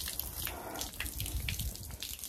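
Tap water runs and splashes close by in a sink while something is washed, with irregular gurgles and drips over a continuous rushing stream.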